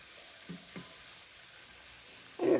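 Food sizzles softly in a frying pan just after being flipped over, a low steady hiss with a couple of faint bumps and a louder burst of sizzling at the end.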